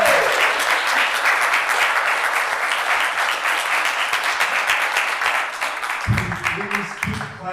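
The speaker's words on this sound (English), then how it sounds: "Can everyone give a big round of applause to our panelists here?" A luncheon audience applauds its panelists, a full, continuous roar of many hands clapping, with a voice briefly speaking over the applause near the end.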